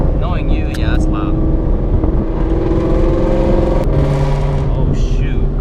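A manual Ford 5.0 V8 car engine rumbling and revving loudly from inside the cabin, a steady throaty drone that swells with the throttle, with people talking over it.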